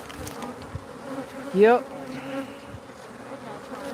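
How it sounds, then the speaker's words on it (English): A swarm of Africanized honeybees, killer bees, buzzing steadily close by, with one bee zipping loudly past the listener and a brief spoken word. "these are killer bees. They're Africanized honeybees."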